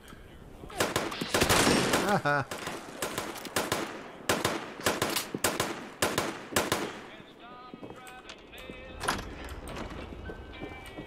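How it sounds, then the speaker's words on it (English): Rapid automatic gunfire in the video game Fallout 76, dense loud bursts at first that thin into scattered single shots, with a man's brief laugh and talk. "Let's get around the corner so we can control the gunfire just a little bit."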